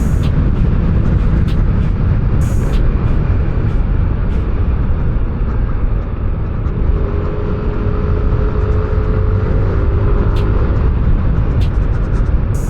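A Yamaha Nmax V2 scooter accelerates hard, its engine drone recorded from on board and buried in heavy, constant wind rumble that stays loud throughout.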